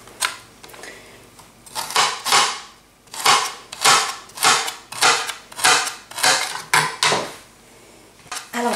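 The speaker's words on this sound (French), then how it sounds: "je vais commencer par couper les carottes très finement, en tout petits morceaux" Knife chopping carrot chunks into very small pieces on a cutting board, a steady series of about ten crisp, close chops, each a sharp broadband knock with a short tail, heard alone.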